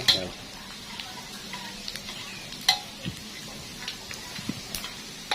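Chili paste with snakehead fish stir-frying in oil for a spicy Thai chili dish, giving a steady low sizzle broken by sharp clicks and scrapes of a spatula against the pan.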